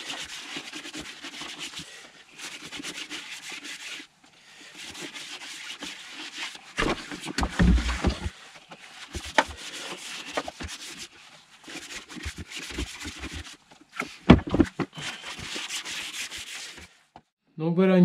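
A brush scrubs soapy water onto the sidewalls of a tubeless bicycle tire, giving repeated close, bristly rubbing strokes in bursts with short pauses and a few louder scrapes.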